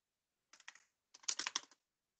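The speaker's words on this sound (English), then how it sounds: "He's typing away." Typing on a computer keyboard: a few quick clicks, a short pause, then a denser burst of close key taps, alone in silence.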